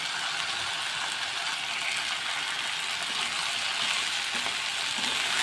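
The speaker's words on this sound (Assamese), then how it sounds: "এইখিনি মই হেতাখনেৰে লৰাই আছোঁ কিছুপৰ" Spicy taro stems fry in a pan while a spatula stirs them. A steady, fairly loud sizzle runs throughout, with scraping and clicking from the spatula against the pan.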